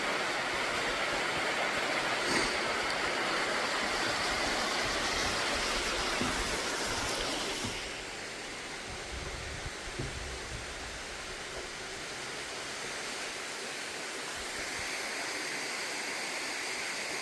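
Winter waterfall in a valley beside Pyochungsa temple, pouring steadily as a dense, continuous roar of rushing water that eases slightly partway through but never stops, with no voices over it.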